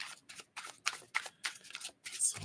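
Tarot cards riffled and shuffled by hand in quick bursts, about eight short papery flutters separated by brief pauses, close and fairly quiet.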